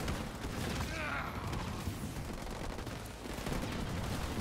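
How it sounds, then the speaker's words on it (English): Enemy ground troops open fire in Halo Wars 2, a dense, continuous rattle of game gunfire with rumbling booms, heard alone with no talk. "Nightingale under fire from enemy ground troops."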